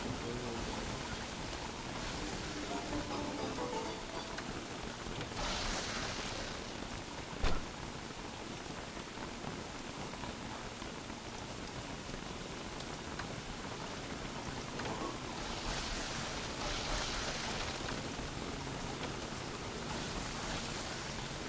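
Steady rain from the video game Don't Starve Together, a dense, even hiss of falling water with a short louder burst partway through, going on without a break and with no talking.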